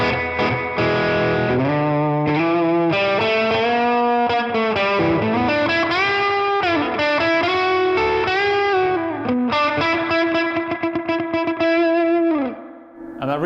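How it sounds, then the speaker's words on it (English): An electric guitar runs through a Line 6 Catalyst 200 amp with heavy reverb, playing a long, loud distorted melodic passage of sustained notes and bends that trails off at the end, with no speech. "And that reverb suddenly got massive."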